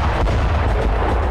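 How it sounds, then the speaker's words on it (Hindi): Russian artillery fire comes as a continuous low, rumbling roar with heavy booming energy throughout a short, loud stretch and no speech. "अवदीवका के पास रूसी आर्टिलरी ने यूक्रेनी सेना की टुकड़ी पर हमला किया।"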